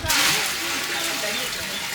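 Water is poured into a cooking pot for boiling rice, a steady broadband splashing wash lasting a couple of seconds with faint voice underneath.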